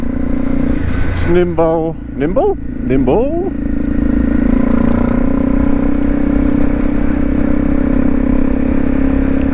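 A Honda CRF250 Rally motorcycle riding through snow on a commute, its engine droning steadily and close with brief revs rising early on, while the rider talks over it.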